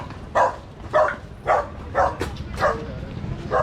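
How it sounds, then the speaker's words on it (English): A friendly dog at an outdoor thrift market in Hanoi barks in a steady series of about six woofs, close and clear, over faint market background noise. "Nice friendly dog."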